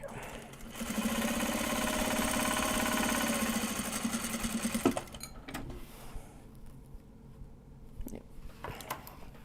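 A sewing machine stitching card holders from Japanese fabric runs steadily and close for about five seconds, then stops, leaving faint handling clicks and rustles.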